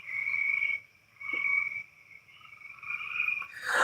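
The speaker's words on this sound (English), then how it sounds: "I'm hearing the toad frogs now. They got their own distinct call too." At night, toad frogs give a continuous high trilling call, swelling and dipping in loudness, close and clear over a quiet background.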